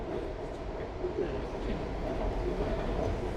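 Metro train at the Reagan airport station in Washington DC, a steady low rumble and hum of the railcars running, fairly close and continuous with no talking.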